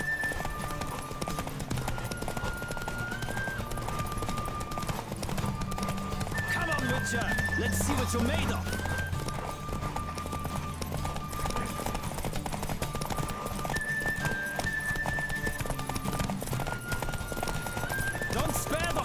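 In the video game Witcher 3, a horse gallops in a race with rapid, steady hoofbeats and an occasional whinny, under game music and a shouted line of dialogue.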